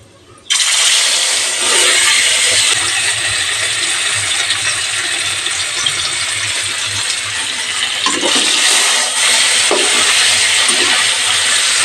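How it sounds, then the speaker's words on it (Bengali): Catla fish pieces frying in hot oil at medium heat, a steady, loud broadband sizzle that starts abruptly as the fish goes in and crackles on without pause, with occasional louder spatters. "মিডিয়াম হিটে মাছ ভেজে নেব, এক সাইড হলে তারপরে উল্টে দেবো।"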